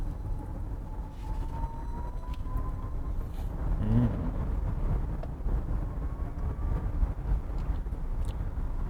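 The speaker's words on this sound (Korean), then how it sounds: "이 모터 사운드는 그냥 우리가 흔히 아는 그 전기 모터의 사운드를 되게 강조를 한 것 같아요" Genesis GV70 Electrified plays its artificial electric motor sound from the cabin: a steady synthetic hum with a faint rising whine, continuous and moderately loud over road and wind noise.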